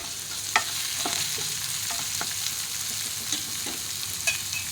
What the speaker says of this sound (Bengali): খুব ভালো করে পেঁয়াজের সঙ্গে ভেজে নেব